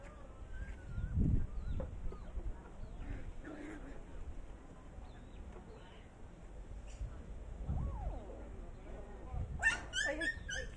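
An injured dog whimpers in short, soft bursts under steady background noise, with higher yelps near the end and a voice speaking faintly.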